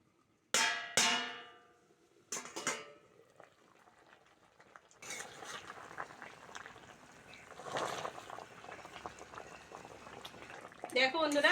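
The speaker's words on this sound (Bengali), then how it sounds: "দশ মিনিটেই কচু পাতাটা সিদ্ধ হয়ে গেছে" Pot of taro leaves boiling in water, with loud lid clatter and clanks at the start, then a steady bubbling, rolling boil with occasional utensil knocks.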